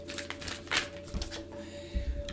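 A deck of oracle cards is shuffled by hand, giving soft papery riffles and slides with a few sharper snaps, fairly close and with no talking.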